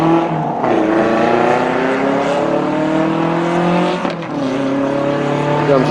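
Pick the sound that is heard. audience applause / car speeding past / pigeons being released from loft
car speeding past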